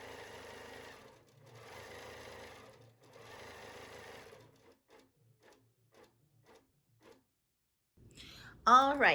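A Handi Quilter Infinity longarm quilting machine running at 250 on its cruise setting stitches in three steady, even bursts, then goes quiet apart from a few soft clicks before a voice cuts in loudly at the end.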